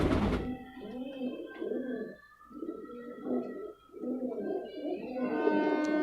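A Rampuri pigeon cooing in low, throaty phrases, repeated about five times in a steady rhythm, close by, with faint chirps of other birds in the background.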